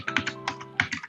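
A computer keyboard tapped in a short quick burst, about eight crisp clicking keystrokes close up as a Ctrl C copy shortcut is entered, with no talking.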